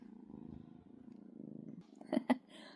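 A house cat purrs close by with a soft, steady, low rhythmic rumble. Near the end, two brief louder bumps sound as the cat stirs.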